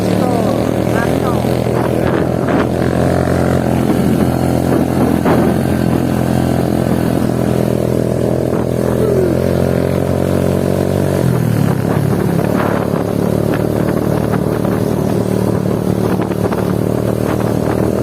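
A motorcycle taxi engine drones steadily throughout while climbing Temiangan Hill in the rainy season, shifting pitch partway as it labors, with a voice speaking briefly over the ride.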